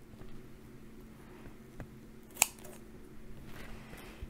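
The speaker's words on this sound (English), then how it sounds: "So we'll just remove some of the leaves off the top." Scissors snip leaves from indoor-grown vegetables in a quiet room, with a couple of faint cuts and one sharp, distinct snip.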